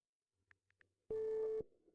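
A telephone line tone while calling a plumber about a burst water pipe, a few faint soft blips followed by one loud, steady electronic beep lasting about half a second.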